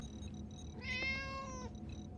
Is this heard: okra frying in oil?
no